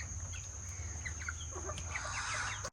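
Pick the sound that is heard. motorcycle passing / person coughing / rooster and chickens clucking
rooster and chickens clucking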